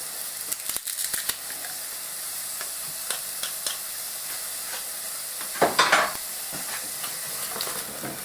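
Garlic cloves frying in a pan while being pushed around, a quiet steady sizzle broken by a few clicks of utensil on metal and a brief louder scraping stir.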